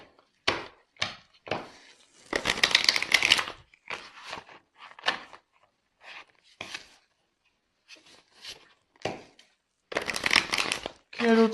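A deck of tarot cards being shuffled in short bursts of riffling and sliding, close and crisp, with a longer flurry early on and another near the end, separated by pauses and interleaved with someone talking.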